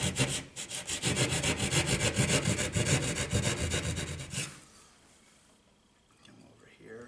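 A saw cuts a vertical line through a wall to open a hole for a metal old work electrical box, giving rapid rasping back-and-forth strokes up close that stop abruptly midway, leaving quiet.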